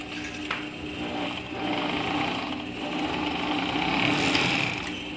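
A sewing machine stitching folded elastic onto a circular godet skirt runs steadily for several seconds, a close, continuous high whirring hum with slight speed changes and no talk.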